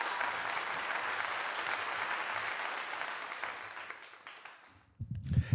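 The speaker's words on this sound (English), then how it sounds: "A round of applause for that." An audience applauds with sustained, dense clapping that gradually thins and fades over several seconds, heard from a distance and fairly faint, before other sounds start at the end.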